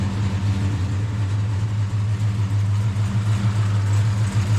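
A 1967 Plymouth Barracuda engine idles through an exhaust with a high-flow catalytic converter, giving a steady, deep, low rumble heard up close with no talking.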